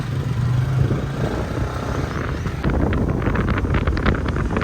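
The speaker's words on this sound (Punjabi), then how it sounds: "ਠੰਡੀ ਹਵਾ ਚੱਲ ਰਹੀ ਹੈ" Cool wind blowing steadily outdoors, a broad roaring rush that buffets the microphone throughout, with some faint engine-like rumble underneath and no speech.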